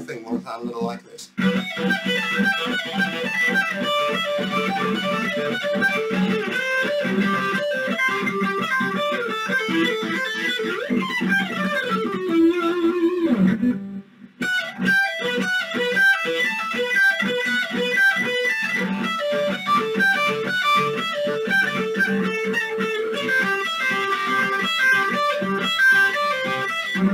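Fast electric guitar lick, played steadily and loud with dense note runs, a descending slide near the middle and a brief drop before the busy playing resumes.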